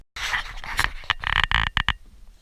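A dog pants loudly and close by in a fast rhythm of rough breaths, with short pauses and a few sharper gasps toward the end, heard alone in a workshop.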